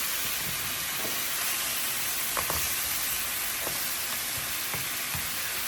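Oxtails brown in a hot pan, giving a constant dense sizzle and hiss close by, with faint occasional pops and no voices.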